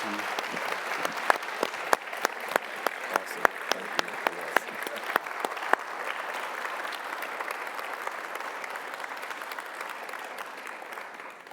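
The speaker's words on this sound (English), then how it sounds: "How about a round of applause for our conversation?" Audience applause after an evening conversation event, steady dense clapping throughout with a few sharp individual claps standing out, as a voice briefly speaks over it.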